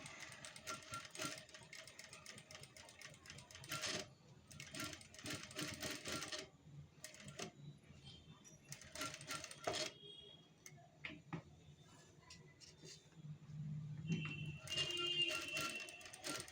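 Sewing machine stitching a canvas pentagon-shaped neckline in short quiet bursts of rapid needle clatter, with pauses, small clicks and shuffling fabric between runs.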